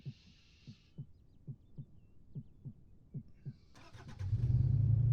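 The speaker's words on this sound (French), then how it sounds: "il se barre avec une bagnole blanche" A white car in the video game ArmA 3 starts up and drives off, its engine swelling into a loud steady drone after a run of soft rhythmic thumps.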